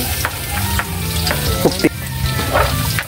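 Garlic sizzles loudly in a frying pan with hot oil, a steady close crackle broken by the clinks and scrapes of stirring, with no talking.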